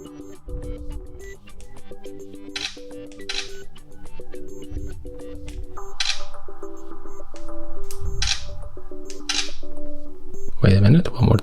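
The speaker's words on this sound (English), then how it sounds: "we can also click and hold to take series of the photo" A Realme GT Neo 3 phone camera fires a burst of rapid shutter clicks. Repeated short electronic tones and clicks sit alongside a person talking nearby.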